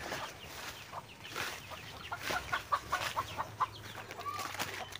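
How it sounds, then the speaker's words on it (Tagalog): Chickens cluck in a rural outdoor setting during a bamboo trap hunt for monitor lizards, with a run of short, moderately loud clucks in the middle, over a steady background of insects and ambient noise. "May manok"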